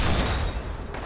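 Cannon fire in an online action video game, a dense, roaring blast of broadband noise with heavy low rumble lasting about a second, loud and close with no talk over it.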